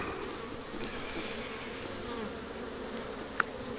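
Honey bees from a swarm buzzing at the front of a hive, a steady close droning hum with one brief sharp tap near the end.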